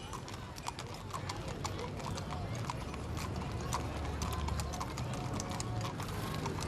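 Many horses, some decorated, clop along in a Christmas parade with a steady, overlapping patter of hooves on pavement, moderately near, with a faint whinny and crowd noise in the background.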